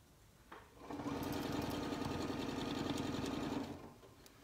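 A sewing machine stitching quilting lines runs steadily for about three seconds, a close, even mechanical whir with rapid needle clatter that starts and stops cleanly, with no talk.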